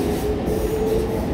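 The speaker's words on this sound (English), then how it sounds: "at the Ängby plan metro station, which is located on the green line in Stockholm here" A Stockholm green line metro train rumbles at Ängby plan station with steady wheel noise and a faint thin squeal on the rails, close by and continuous, no talking.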